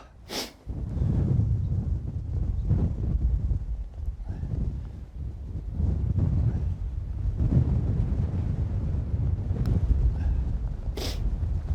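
Strong wind buffets the microphone in heavy, gusty low rumbles, with a few horse hoof clops and snorts mixed in.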